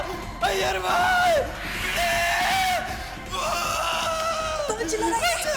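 Popatlal, a man in Gokuldham Society, yells for help in several loud, strained bursts, his voice rising and breaking between short pauses, with other excited voices nearby.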